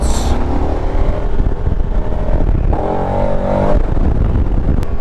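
KTM 1290 Super Adventure S motorcycle engine held under throttle while riding, a loud continuous close-up roar with rising pitch and a shift-like change midway.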